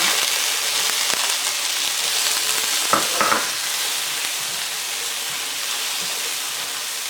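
Shrimp drop into a hot pan with a brief splash of sizzle, then settle into a steady, loud frying hiss that runs unbroken to the end, seasoned with Tajín alongside broccolini.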